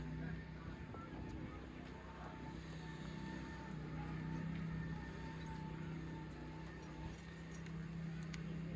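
The engine of a Woodmizer LT15 Wide portable sawmill idles as a low, steady drone that stays faint and even throughout, with no revving.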